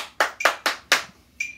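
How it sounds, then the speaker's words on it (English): Body percussion stomps and claps sound as four sharp, evenly spaced hits close by, then a short pause and one more softer strike. "Stomp, stomp, clap."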